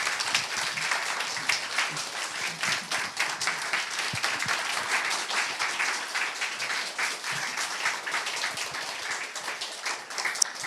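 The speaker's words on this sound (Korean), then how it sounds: "우리 박수로 맞이하면서 우리 은혜 나누겠습니다" Sustained applause from a church congregation at a Friday family prayer meeting, welcoming an elder to the front; dense, steady clapping continues evenly throughout without pause.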